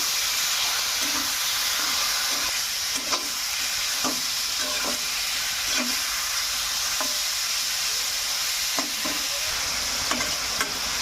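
Chicken and onions sizzle in a hot pan while being stirred, a constant frying hiss punctuated by regular scraping knocks of the spoon against the pan, close and steady throughout.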